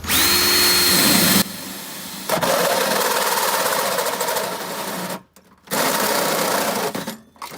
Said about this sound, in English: Next, you'll turn on the drill.